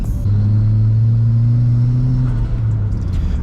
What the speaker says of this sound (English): just like what I just did there, the acceleration at like half throttle is a little bit jumpy